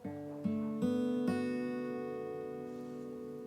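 Acoustic guitar fingerpicks a Final Fantasy 8 tune: four plucked notes arrive in quick succession, then ring out and slowly decay, played alone and close.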